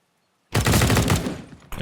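A short close burst of rapid rifle fire in Counter-Strike: Global Offensive during a competitive match, loud for about a second before cutting off, with no talk.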